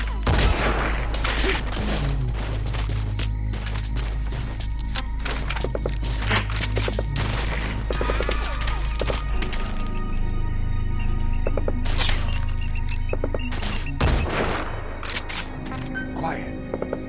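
Gunfire in Metal Gear Solid 5: The Phantom Pain erupts in loud, dense bursts and booming volleys, pausing briefly before resuming, with voices calling out over the shooting.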